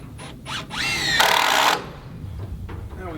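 Power drill driving structural GRK screws into porch framing of a hunting cabin: a close, loud whirring burst that rises in pitch, then a sustained high-pitched spin for about half a second before stopping.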